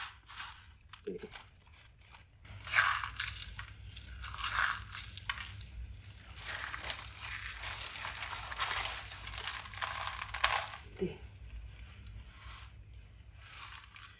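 Crisp crunching and crackling of oil-free crispy fried onions, a steady textured rustle lasting throughout, close by, with some faint talking mixed in.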